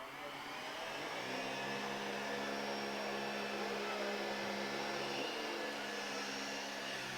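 Triflex battery-operated vacuum cleaner running steadily over a floor area, a continuous close whir with a low motor tone that shifts pitch partway through, no voices.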